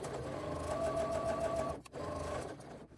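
A sewing machine runs in a steady, fast, close, mechanical rattle while top stitching a trim piece on a crossbody bag, stopping briefly twice with short pauses between runs.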